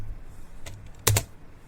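A few soft keystrokes on an HP laptop keyboard, one faint tap followed by a sharper, louder double click of keys, close and isolated against a quiet background.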